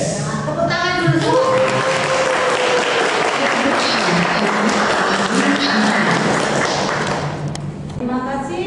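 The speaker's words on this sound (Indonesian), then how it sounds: "Tepuk tangan dulu." High school students at SMA Muhammadiyah 1 Surabaya clap their hands together in a loud sustained burst, with voices heard briefly at the start and end around the clapping.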